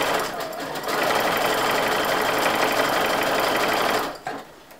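A sewing machine runs steadily for about four seconds, stitching a faux overlock stitch along the edge of a piece of fabric, with a dense, even mechanical chatter that stops abruptly near the end.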